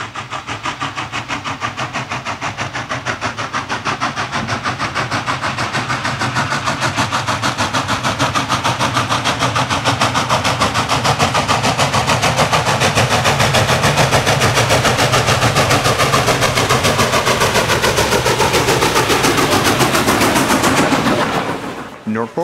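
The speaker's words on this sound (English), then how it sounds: "as 611 thunders through the Virginia countryside once again." Norfolk & Western 611 steam locomotive running through the Virginia countryside, a loud, steady, rapid chuffing exhaust with continuous rumble, close and sustained throughout before dropping off at the end.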